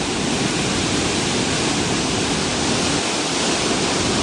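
Loud, constant rushing water roars without pause through a canyon, a dense broadband wash like a powerful torrent close by.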